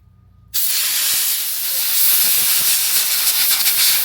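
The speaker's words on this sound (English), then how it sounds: "I'm just gonna take the air compressor and shoot out all the loose degreaser" Compressed air blasting loose degreaser out of an electric dirt bike fork, a sudden loud continuous hiss that starts abruptly after a brief quiet moment and holds steady.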